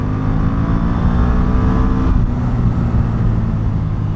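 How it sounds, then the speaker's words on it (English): An Indian Scout motorcycle engine revs hard toward high RPM, a loud, close, sustained roar that shifts pitch partway through. "you rev this bike out and it has a completely different personality"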